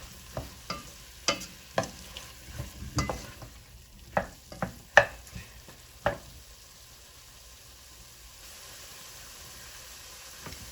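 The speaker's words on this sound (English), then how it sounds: "So we keep stirring, keep stirring or stirring." Jamaican beef stew stirred in a pot with a Maggi cube stock: a spoon scrapes and knocks against the pot in irregular strokes over a faint simmering hiss, tapering off to near quiet toward the end.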